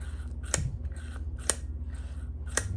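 A throttle cable on a Lectron Billetron 38 carburetor fitted to a 2019 KTM 300 XC is pulled by hand, moving the slide with three sharp metallic clicks spaced about a second apart over a steady low hum.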